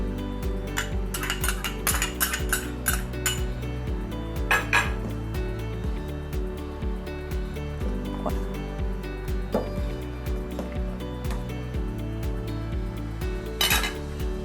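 A spoon clinks and scrapes repeatedly against a pot while chili paste is stirred into Thai tom yum soup, with rapid metallic knocks in uneven bursts, close and fairly loud.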